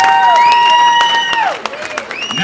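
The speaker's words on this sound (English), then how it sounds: "Now you want to clap." An audience at a fundraiser comedy show cheers and whoops, with high voices rising and falling, then brief scattered clapping fades.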